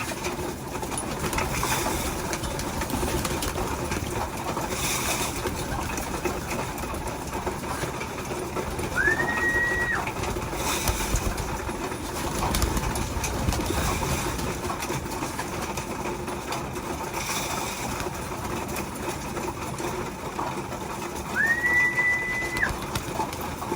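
Racing pigeons coo softly against a constant background hum, with two short rising whistles standing out partway through.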